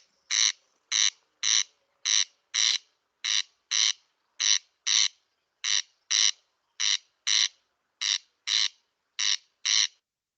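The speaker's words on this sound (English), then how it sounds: "And finally, our corncrake." A corncrake's rasping, double-noted call repeats steadily about twice a second, loud and clear against total silence, like a dry comb being scraped.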